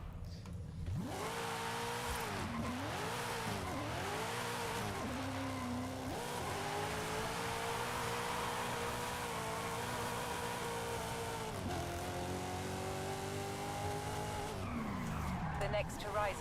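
A car in a Forza Horizon 5 drift zone, its engine swooping up and down through long held revs while tires skid and squeal, continuous and loud, with talking underneath.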